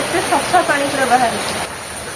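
Light rain falls steadily as a soft, even patter close by, with a faint voice murmuring underneath.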